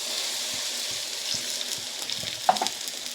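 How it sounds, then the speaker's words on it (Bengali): Water hits a pan where potatoes and raw mango are frying in a sour curry, and the mix fizzes with a steady close sizzle. Light stirring clicks and scrapes come through, with no talking. "এবার এখানে আমি জল দিয়ে দিচ্ছি।"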